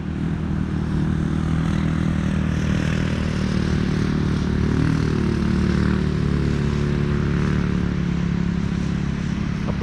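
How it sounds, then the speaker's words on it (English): Motorbikes passing a beach campsite, a continuous loud engine drone that swells slightly in the middle as the bikes go by, with no talk. "There's some motorbikes."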